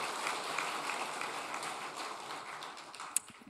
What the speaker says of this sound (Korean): 저기 박수 한번 쳐주시면